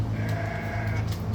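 Small sheep bleat in a steady, close, fairly loud call with a harmonic, wavering tone, a low rumble running underneath throughout.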